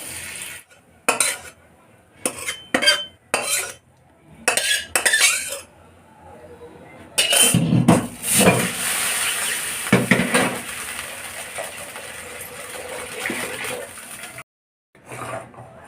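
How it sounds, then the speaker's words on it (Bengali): Hot oil tempered with cumin seeds is poured from a kadai onto boiled jackfruit seeds. Metal clinks and scrapes come first, then a sustained hiss and sizzle rises as the oil hits the mash, up close and continuous. "কড়াইতে আমি জিরে ফোড়ন দিয়ে গরম তেলটা আমি এই কাঁঠালের বীজের সিদ্ধর উপরে ঢেলে দিচ্ছি"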